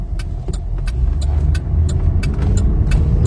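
Car on a test drive, its engine rumbling low and steady inside the cabin, with small clicks and rattles throughout and a slight rise in level as it goes.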